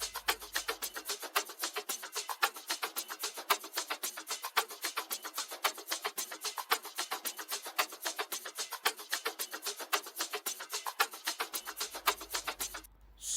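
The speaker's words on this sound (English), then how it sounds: "In track 5, we have the first drum loop," Borrowed drum loop from another song, looping steadily at a fast, even pace with crisp repeated hits and hi-hat ticks throughout, played alone with no voice.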